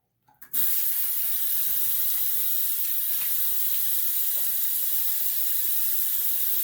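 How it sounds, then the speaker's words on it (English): A bathroom tap turns on and runs steadily while rinsing off after a wet shave, a loud continuous hiss of flowing water close by with a few faint splashes. "All right, let me rinse off."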